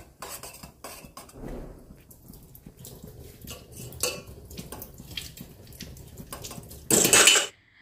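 Eggplant rinsed in a kitchen, with intermittent clattering of dishes and utensils, splashing water, and a loud rush of running tap water near the end.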